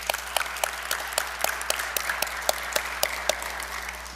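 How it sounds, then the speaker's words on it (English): Applause from an audience at a media day conference, with sharp individual claps standing out over a steady wash of many hands, heard moderately close and continuing without talk. "so let's clap it up for Miss LaDonna."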